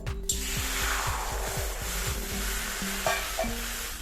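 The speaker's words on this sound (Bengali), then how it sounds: "আর সেদ্ধ করার জন্য আমি কড়াইয়ের মধ্যে দিয়ে দিচ্ছি জল" Water hits a hot wok with a sharp burst, then a sizzling hiss fades while something scrapes and stirs against the metal.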